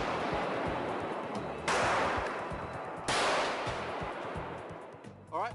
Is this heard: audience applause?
no